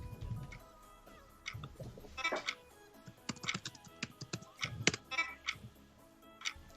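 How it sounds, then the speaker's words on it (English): Keys clatter on a computer keyboard in quick irregular bursts, close and fairly soft, with short pauses between flurries of tapping and no voices. "I was typing"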